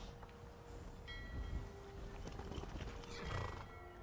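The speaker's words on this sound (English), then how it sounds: "my horse is on the docks" A horse whinnies and its hooves clop on wooden docks in the video game Skyrim, a clear neigh over scattered hoofbeats and faint background ambience, with no talking.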